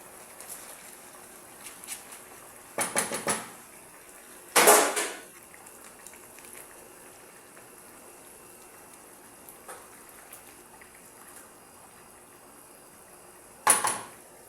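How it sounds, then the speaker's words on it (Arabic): Rice is poured into a cooking pot for chicken kabsa in a few short rattling, rain-like bursts against a quiet room hush, with no speech. "نضيف الأرز."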